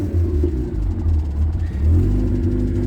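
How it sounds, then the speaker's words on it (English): Rumbling Mazda RX-8 rotary engine firing up and idling close by with a low, uneven burble and a slight rise in revs, loud and steady with no talking. "Get a little RX-8 start up on his way out"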